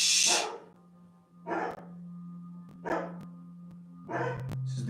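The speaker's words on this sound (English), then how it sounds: "I had the dog barking, but next door's dogs just started" Several dogs barking, neighbours' dogs joined by two more, in short separate bursts about a second apart, moderately close, over a steady low electrical hum.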